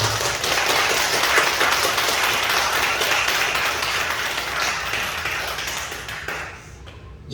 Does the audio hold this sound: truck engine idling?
no